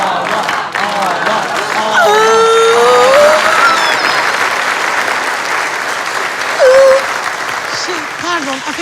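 A studio audience applauds steadily, thick sustained clapping mixed with a few whoops and cheers, loud and close throughout.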